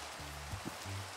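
Rain in the Minecraft video game, a faint, even wash of hiss with low tonal hums underneath, brief and steady throughout.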